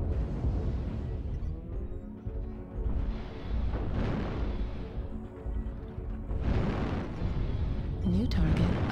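Airstrike explosions in the mech combat game MechWarrior Online: a steady heavy roar of rumbling blasts and booms runs throughout, with a computer voice speaking over the din.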